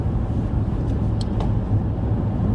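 Car cruising at about 70 mph while passing a police vehicle, steady low road and engine rumble heard from inside the cabin, continuous and even with no talk.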